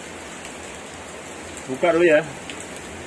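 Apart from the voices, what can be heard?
rain falling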